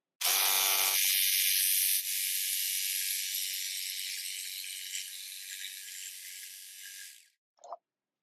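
A Ryobi R18JS7 brushless cordless jigsaw cuts through wood with a loud, steady high-pitched buzz that runs for about seven seconds and then stops, followed by a brief small clunk.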